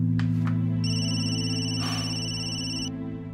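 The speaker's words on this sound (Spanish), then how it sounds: "Su teléfono siempre está sonando." A phone ringing with a bright electronic ringtone, a steady layered melody sustained for about two seconds over a low hum, with no talking.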